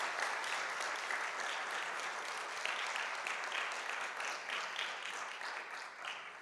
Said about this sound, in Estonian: Nii et teeme Victoriale suure aplausi.